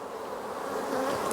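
Honeybees hum steadily around an apiary, a soft, continuous buzz of many insects with no distinct passes and no talking.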